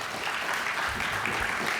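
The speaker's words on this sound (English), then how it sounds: "could we have a round of applause for the Juneau Chamber of Commerce?" Audience applause for the Juneau Chamber of Commerce at an innovation summit pitch contest, a brief wash of steady clapping from a crowd.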